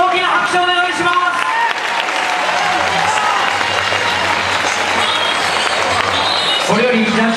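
A crowd at a Muay Thai title fight applauds both fighters after the final round, a steady wash of clapping with an announcer's amplified voice speaking over it.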